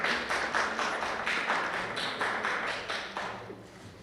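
An audience at the final of a national debate and eloquence competition applauds steadily, a moderately loud, continuous patter of many hands with pulsing swells, slowly tapering toward the end.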